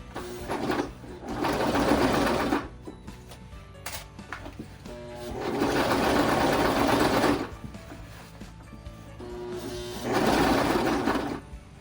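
A sewing machine stitches a seam on jeans in three separate bursts of close, rapid mechanical whirring, with quiet pauses and small handling clicks between runs.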